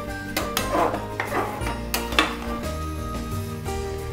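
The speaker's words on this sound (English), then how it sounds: "Give it a quick stir" Paneer bhurji with green chillies and coriander gets a brief stir in a pan, with a few metal scrapes and clinks near the start over steady background music.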